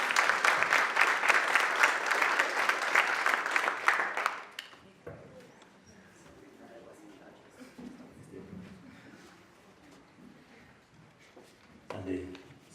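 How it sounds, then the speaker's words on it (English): Loud crowd applause for the winners of an inter-school debate, the Fred Spears Memorial Debate, fills the first four seconds, then drops to a quiet murmuring room with a brief voice near the end. "A round of applause to the winners."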